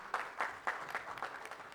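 A handful of distinct claps, spaced roughly evenly, from an audience at an Indian lawyers' welfare association gathering; fairly faint and short.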